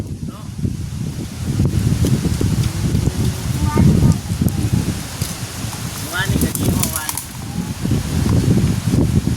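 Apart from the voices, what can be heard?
strong wind blowing outdoors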